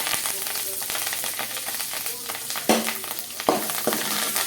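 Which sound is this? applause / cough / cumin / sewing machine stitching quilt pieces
cumin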